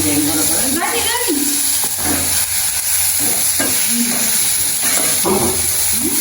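Soya meat sizzles and fries in a pan while being stirred, with scraping strokes over a constant hissing frying noise, close and loud; voices talk intermittently over the cooking.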